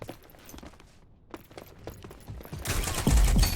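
Gunfire in the shooter Rogue Company, scattered distant shots and footsteps giving way near the end to a loud, close rapid burst of automatic fire.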